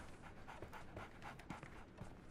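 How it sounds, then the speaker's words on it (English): Dogs pant in quick, steady breaths in the Sherlock Holmes game The Awakened, 2023 remaster, fairly close and continuous over a low background hum, with no talk. "We should be able to pet these dogs."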